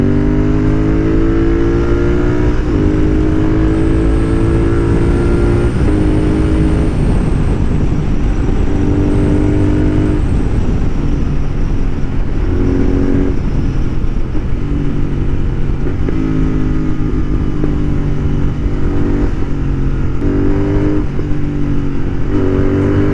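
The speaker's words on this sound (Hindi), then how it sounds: "तो गाइस एक बार इस बाइक का एक्सेलरेशन देख लेते हैं अभी।" A modified Royal Enfield Continental GT 650 motorcycle accelerates hard, its loud twin-cylinder engine roaring steadily and rising through the gears in a continuous close pass lasting over twenty seconds.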